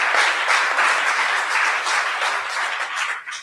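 Loud, dense audience applause at a political forum, sustained clapping that swells and then tapers off toward the end.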